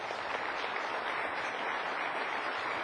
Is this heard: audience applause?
yes